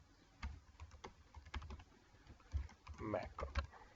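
Rapid clicking keystrokes on a computer keyboard while a macro for conditional formatting is set up in Excel, with irregular taps of varying loudness and a brief voice murmuring near the end.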